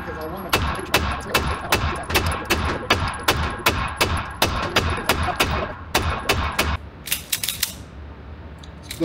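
A Watchtower Apache rifle fires a string of sharp, loud shots in a rapid, regular rhythm, with a brief tight burst near the end, and voices are audible in the background.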